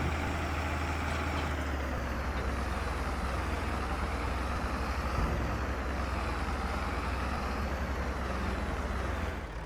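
Steady tractor engine running in a farming video game, a continuous low rumble and drone holding at an even level throughout with no voices.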